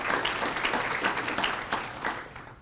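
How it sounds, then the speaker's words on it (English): Audience applause at a 2013 State of the City address honoring the city's police force: a dense, steady wash of many hands clapping that holds loud throughout and fades slightly at the end. "a deserved round of applause to your force for doing its part in cleaning up this city"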